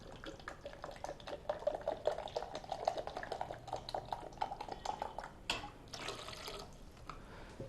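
Water poured into a cooking pot of moong dal and rice, soft splashing and trickling with light clinks of utensils and metal, close and quiet, no voices.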